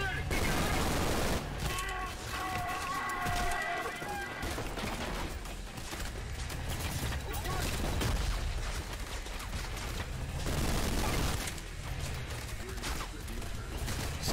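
Dense, sustained gunfire in the Trepang 2 shooter game crackles in rapid volleys with occasional heavier booms, loud and continuous, with a voice talking over it at times.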